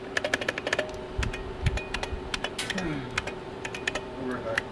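Computer keyboard typed on near a laptop build: sharp, close key clicks in quick, uneven bursts, with a voice talking in places.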